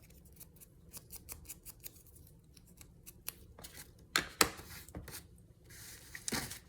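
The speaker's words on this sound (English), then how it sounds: "I do need to cut my paper down though" Scissors snip through vellum paper in a run of quick, close, crisp cuts, with a few louder slicing strokes near the end and no talking.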